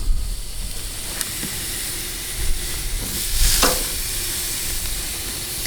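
Steaks sizzle steadily in a hot pan up close, a constant frying hiss with a few louder crackles and bursts.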